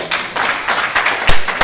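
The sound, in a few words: congregation clapping hands in church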